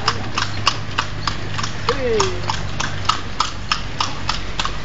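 Horse hooves clip-clop in a steady, even rhythm on a hard surface, close and distinct, with people talking over them.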